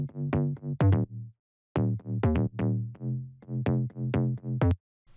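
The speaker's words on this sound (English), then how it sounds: "The second bass layer sounds like this." Future bounce style synth bass, a second layer with a slightly wobbling harmonic-rich tone, plays short rhythmic phrases of plucky notes separated by a clear pause, loud and alone.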